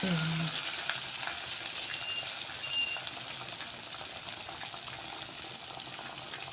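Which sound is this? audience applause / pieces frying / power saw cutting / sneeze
pieces frying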